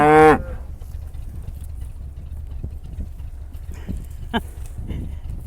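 A cow on a ranch at feeding time gives one short, loud moo right at the start, followed by quiet rustling and soft farmyard movement.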